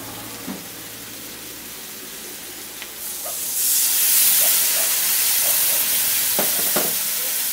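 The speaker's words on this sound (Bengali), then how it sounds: "বাটিটা ধুয়ে একটু জল দেব।" A sudden steamy hiss rises midway as water is poured into a hot pan of cauliflower stem and potato poppy seed curry, holding a broad sustained sizzle with a few small clinks and knocks, close and alone.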